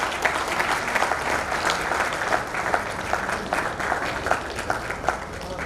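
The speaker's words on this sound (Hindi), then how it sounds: "जोरदार तालियां इनके लिए बनती है।" A crowd gives loud, sustained applause for honoured guests at a social event, dense overlapping claps filling the whole span.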